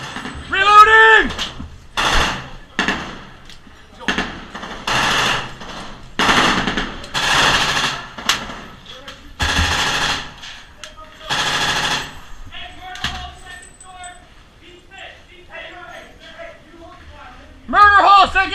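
An M240 machine gun fires repeated loud bursts of rounds at close range in a squad firefight, sharp clattering volleys separated by short pauses, with shouted voices of soldiers between and over the shots.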